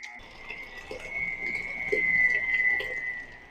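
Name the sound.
electric mixer running loudly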